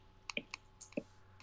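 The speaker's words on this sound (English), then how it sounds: "My keyboard's actually really loud and mechanical" A handful of soft, irregular clicks from mechanical keyboard keys, quiet and close, with faint background hum.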